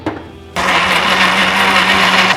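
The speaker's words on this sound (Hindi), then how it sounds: "मिक्सी में टमाटर घुमाएं।" A mixer grinder whirs loudly as it blends tomatoes for pink sauce pasta, starting abruptly after a brief pause and then running steadily without letup.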